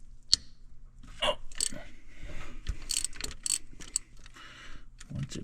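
A wrench ratchets on a bolt of a 6.0 engine, a series of quiet, close metallic clicks and short ratcheting bursts with brief pauses between strokes.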